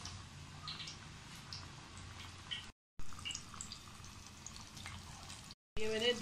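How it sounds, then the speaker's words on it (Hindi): Breaded chicken pieces for a KFC-style zinger burger frying in hot oil, a steady close crackle and hiss interrupted by two brief silent gaps. "अब हम जाके ऑयल में डालते हैं। हम 2 से 3 पीस डालेंगे"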